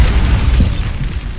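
Bombarda spell explosion in Hogwarts Legacy, a loud, close, deep boom with a rumbling low-end tail lasting over a second, heard alone.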